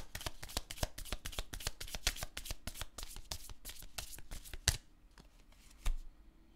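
A deck of affirmation cards being shuffled by hand in rapid riffling bursts, close and crisp, followed by a few isolated card snaps and taps in a quiet room.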